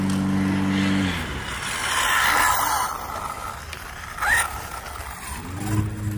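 An Arrma Typhon 6S RC car with GRP tyres drives on a first run, its electric motor giving a rising and falling whine and rushing noise, fairly loud and close, with no talk over it.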